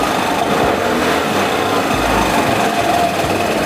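A Vespa Primavera 150 scooter engine idles close by, producing a loud, steady, buzzing drone with an even rapid pulse and no change in speed, with no voices heard.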